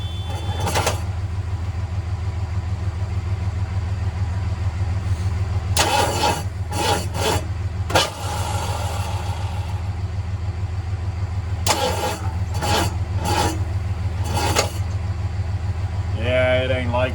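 A 429 V8 engine on a hot rod build, with a freshly adjusted carburetor and a moved spark plug, cranks repeatedly over a steady low rumble, several short bursts of effort spaced across the clip without catching.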